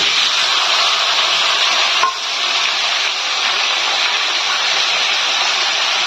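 Onion and tomato sizzling in hot oil with mustard seeds, fennel and cumin, a loud, steady, close hiss of sautéing that runs the whole way with a brief dip partway through.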